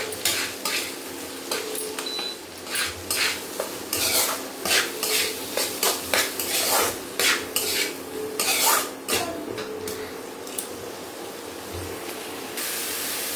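Vegetables are stirred in a cooking pan, with a spatula scraping and knocking against the metal in quick irregular strokes over a light sizzle, close and fairly loud.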